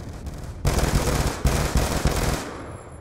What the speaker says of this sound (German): Guck mal, ein Schuss.